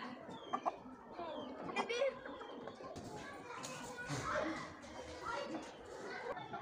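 Chickens on a farm cluck and squawk in short, scattered calls amid lively outdoor background noise, with voices talking over them.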